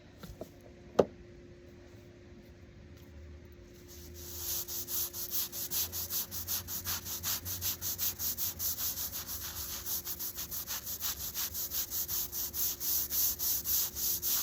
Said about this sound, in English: we'll do one other scrubbing with this one brush